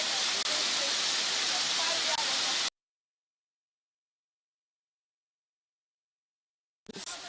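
A waterfall reached on a walk through a scenic nature spot, heard as a loud, steady broadband rush for a couple of seconds, then cut to silence before the roar briefly returns near the end.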